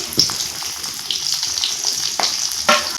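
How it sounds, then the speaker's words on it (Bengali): Whole spices, dried chilies, cumin, bay leaf and chopped onion fry in oil for a rohu fish curry, a steady close hiss with a few sharper bursts of sizzling and stirring, no talking. "এখন আমি পেঁয়াজটা লাল করে ভেজে নেব"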